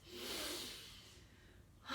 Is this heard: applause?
no